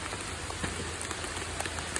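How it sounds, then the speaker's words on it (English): Rain falls steadily outdoors on sealed cooking gear and surrounding surfaces, a close, even patter of drops with no voices. "It's raining all over your crap."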